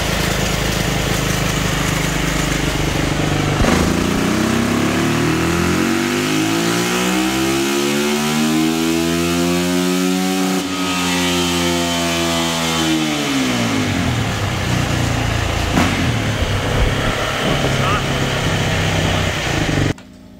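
A 2021 Yamaha YZ450F motorcycle engine on a Dynojet dyno in stock trim, revving loudly in one long sweep that climbs steadily to a high, screaming peak and then winds back down, with no talk over it.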